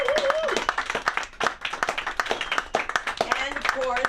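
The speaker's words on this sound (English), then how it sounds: "A round of applause for Samantha." Audience at a comedy club show claps in scattered bursts while a host keeps talking over the applause.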